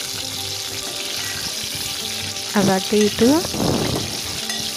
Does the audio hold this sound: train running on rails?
no